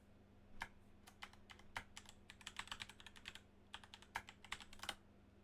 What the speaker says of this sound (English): The Razor keyboard I have right now.